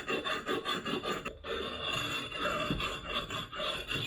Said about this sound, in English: What I've got here, this is really just an old rubbing stone from tile. Round it over just a little.